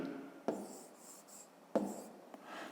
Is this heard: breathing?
no